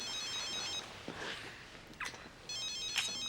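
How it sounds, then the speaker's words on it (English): A telephone rings in a room, a warbling electronic trill in two bursts with a pause between, moderately loud with faint rustles and movement in the gap. "I'm one of those people that has to answer the phone if it rings"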